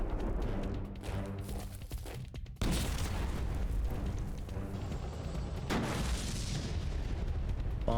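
Bomber attack explosions from the Commander: World War II strategy game, a dense continuous roar of booms and blasts that jumps louder midway and stays loud throughout, with no talk.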